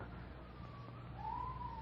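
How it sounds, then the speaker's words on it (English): A faint police siren wails in the distance, its tone rising near the end over steady low background rumble. "Police siren."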